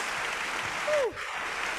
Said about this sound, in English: let's give her a massive round of applause